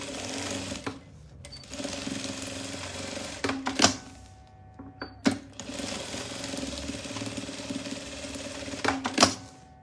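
A sewing machine stitches a patchwork cosmetic pouch in several steady, whirring runs with brief pauses and clicks between them, close and fairly loud.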